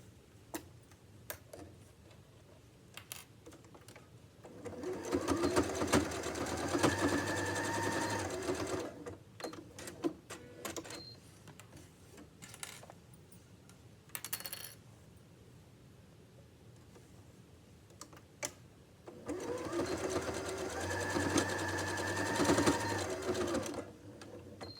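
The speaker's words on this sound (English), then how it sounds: "Now I'm going to sew this into place." A sewing machine stitches an apron in two steady bursts of rapid mechanical whirring, with quieter handling sounds between the runs.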